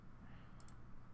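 Computer mouse clicks at a desk, two quick faint clicks in close succession against a low steady hum, with no talk.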